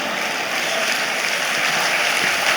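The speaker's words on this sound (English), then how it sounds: "Please applaud Her Excellency more resoundingly." Steady, dense applause from a conference audience fills the room, even and moderately loud throughout, with no talking.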